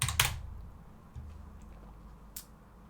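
Computer keyboard typing during a live coding session: a short burst of keystrokes at the start, then a few faint isolated taps against a quiet low hum.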